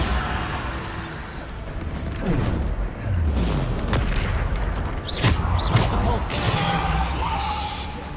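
Repeated booming Bombarda spell explosions from Hogwarts Legacy crash through a busy spell-casting fight, with several sharp impacts and rumbling blasts layered over constant battle noise and some voices.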